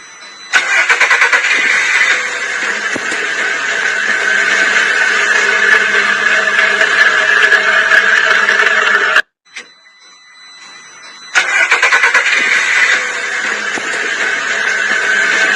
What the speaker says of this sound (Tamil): அந்த இன்ஜின் வந்து ஸ்டார்ட் ஆகுது, அந்த பிஸ்டன் சுத்துது